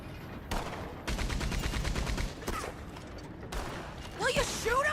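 Bursts of MG42 machine-gun fire from Red Dead Redemption 2, rapid rattling volleys broken by short pauses, loud and close, with faint talk and other game sounds mixed in.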